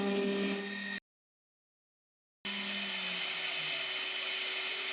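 A Makera Z1 CNC machine milling dowel-pin holes and chamfers in aluminium stock over a polycarbonate wasteboard, a steady high spindle whine with tonal hum, cut off by a brief silence before resuming just as loudly.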